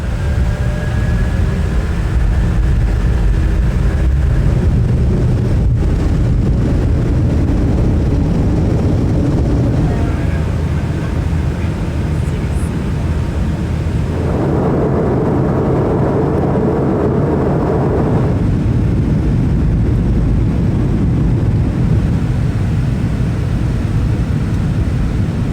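Constant loud roar of jet engines and airport machinery near a parked airliner at a terminal gate, steady throughout with shifting tonal whines and no talking.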